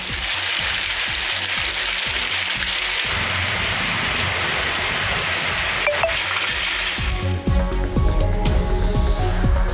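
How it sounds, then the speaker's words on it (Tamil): Thirparappu waterfall in Kanniyakumari swollen after heavy rain, a dense continuous rush and roar of gushing water, with some louder splashing and clatter toward the end. "மழை காரணமாக திருப்பரப்பு அருவியில் தண்ணீர் ஆர்ப்பரித்து கொட்டுகிறது"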